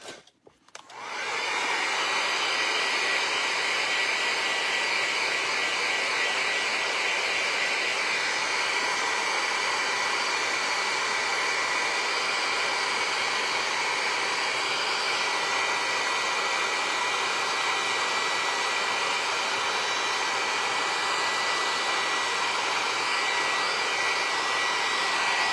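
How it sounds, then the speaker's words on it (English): Heat gun drying velvet powder on DIY Christmas decor, a steady loud whooshing blower hum that starts abruptly and runs unbroken, with no talking. "So I had my heat gun too close, but I just pressed it back down."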